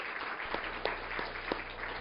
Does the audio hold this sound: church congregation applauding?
yes